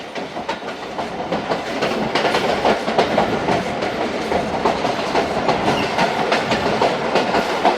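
Thal Express carriages clattering over unwelded rail joints, a steady, loud, continuous rumble with rapid rhythmic clicks and clacks of wheels striking the gaps, heard up close from on board.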